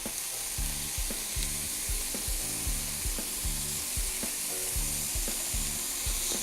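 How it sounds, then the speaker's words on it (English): Burger patties searing in a hot pan, a strong steady sizzle with a regular rhythmic thumping pattern underneath, close and continuous, no speech. "I'm going to flip my burgers over. Beautiful sear on the outside."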